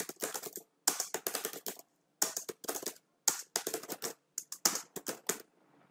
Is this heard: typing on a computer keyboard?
yes